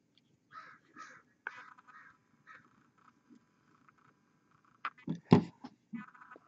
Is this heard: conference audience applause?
no